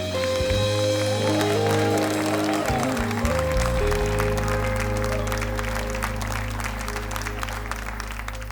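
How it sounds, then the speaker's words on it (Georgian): Sustained audience applause at a late-night television show, a dense continuous clatter of clapping over a lingering musical tone, loud and steady for the whole stretch. "აპლოდისმენტები თუ შეიძლება."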